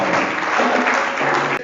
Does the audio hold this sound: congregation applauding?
yes